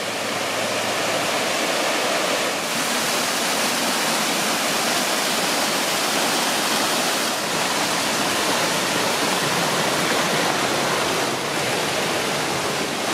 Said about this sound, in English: Here's the first of the waterfalls.